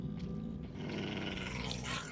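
A dog growling in a modded Minecraft game, a low rumbling snarl that carries on steadily for a couple of seconds with no talk over it.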